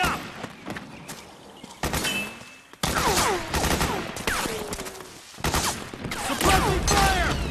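Sustained gunfire erupts in a Metal Gear Solid 4 battle, dense bursts of automatic fire and scattered single shots crackling over a quieter opening, with brief pauses and heavy impacts, loud and close throughout.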